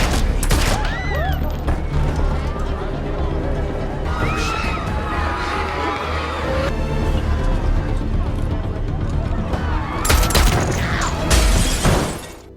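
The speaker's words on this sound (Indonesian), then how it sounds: "ada satu musuh yang menembaki mereka sehingga Morgan langsung melawannya" Gunfire from an enemy shooter in an action film scene, bursts of loud rapid shots with booms and impacts amid music and effects, while a voice talks over much of it.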